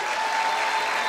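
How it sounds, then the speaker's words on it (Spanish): Studio audience at a Colombian television talk show gives a short burst of steady, dense applause, loud and even throughout with no voices over it. "Un aplauso, mire."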